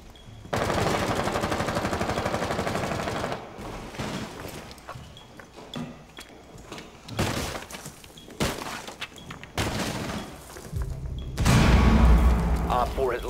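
Gunfire in the Rainbow Six Siege video game: a sustained loud automatic burst, then scattered shots, breaking and impacts, ending in another heavy burst, with people talking over the action.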